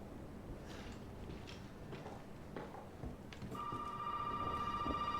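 A telephone rings in the horror game Resident Evil 7, its steady electronic trill starting partway through over faint room noise and scattered clicks and knocks.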